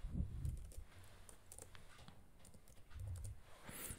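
Computer mouse clicks while right-clicking to import images in the Orange data-mining software: a scattered run of light, close clicks over a faint low hum, with no talking.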